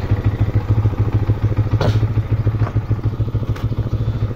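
A Yamaha R15 motorcycle with stock exhaust idling close by, a steady low putter with a couple of brief clanks over it.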